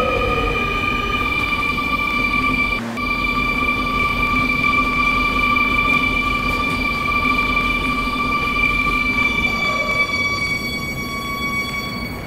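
An R220S 7 express subway train runs in the Roblox game PTA Classic: a loud, continuous rumble with steady whining motor tones, a brief dip partway through, with no voices.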